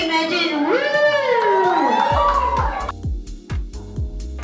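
A crowd cheers and whoops loudly at an egg tart eating challenge in Singapore, with sliding shouts giving way to rhythmic thumping claps and bursts of cheering.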